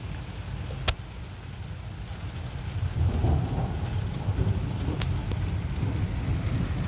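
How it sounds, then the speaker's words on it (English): A severe thunderstorm in Laporte, Indiana brings steady rain hissing on surfaces, low rolling thunder rumbling underneath and a couple of sharp cracks, growing heavier partway through, with no talking. "I'm wondering if this is a supercell thunderstorm"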